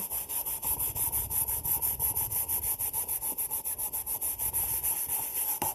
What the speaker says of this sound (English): I'm going to wipe it a lot, and I'm going to get all of the excess stain completely off.